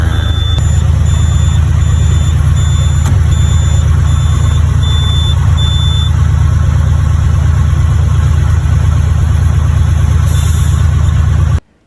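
A 2005 Western Star truck with a Detroit diesel engine runs steadily around 1000 RPM on cruise control, a loud, constant low drone with a faint repeating high beep, cutting off abruptly at the end.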